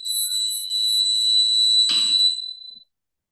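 A loud, steady high-pitched electronic buzzer alarm from a homemade earthquake detector sounds continuously for about two seconds, with a brief clatter near the end before it cuts off.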